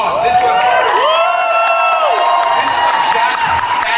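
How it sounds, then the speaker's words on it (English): Audience applause and cheering from a crowd at a film and streaming showcase event, loud and sustained throughout with whoops and shouts rising over the clapping. "come on, I want to hear louder applause"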